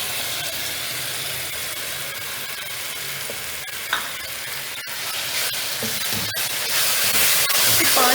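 Marinated chicken with garlic and ginger frying in a pan, a steady close sizzle and hiss running throughout, with a few stirring clinks and the frying growing a little louder toward the end.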